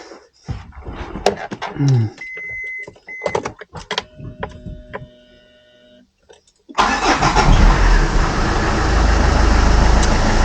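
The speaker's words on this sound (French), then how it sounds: "Et là on va faire le premier démarrage après avoir remplacé le démarreur." Citroën Xantia 2.0 HDi diesel after a starter replacement: starter cranks briefly amid clicks and clunks, then the engine catches and settles into a loud, steady near running roar.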